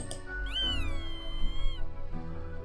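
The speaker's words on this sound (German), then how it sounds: "die Katze verstört." A cat meows in the video game Death and Taxes, one long, drawn-out, close and clear meow, with a soft thump before it and faint game sounds after.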